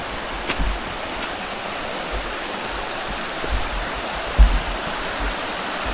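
Swift stream water rushes steadily in a broad, constant wash, close and moderately loud, with a few soft thumps underneath and no voices.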